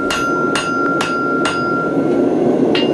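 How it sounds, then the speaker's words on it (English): A larger shaping hammer strikes steel while drawing the edge bevels of a forged sword, about five loud, ringing metallic blows at an uneven rhythm with a sustained tone between them, close and without speech. "To put the edges on, to draw the edge bevels, start with a larger shaping hammer."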